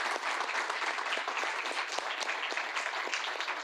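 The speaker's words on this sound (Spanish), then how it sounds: "quiero despedirles con un aplauso" Steady audience applause at a university seminar in Chile, dense and sustained clapping from a sizable crowd filling the whole stretch with no voices on top.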